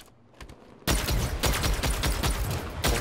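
Mounted turret gunfire in a Halo-style video game, a loud rapid burst of heavy shots rattling continuously at close range after a quieter opening.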